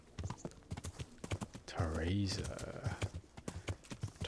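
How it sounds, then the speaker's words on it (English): Horse hooves clip-clop steadily in the medieval game Kingdom Come: Deliverance, a rhythmic run of hoofbeats beneath near continuous talk, with a brief louder tonal swell partway through. "You're a valiant knight on a okay-ish horse."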